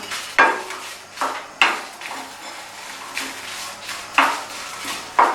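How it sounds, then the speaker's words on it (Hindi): Whole round dried chillies, coriander seeds and cumin dry roasting in a pan, with several distinct scraping strokes of a spoon against the metal at irregular intervals over a faint background hiss, close and with no talking. "गोल साबुत मिर्च शामिल करके बस, ज़्यादा नहीं भूनना।"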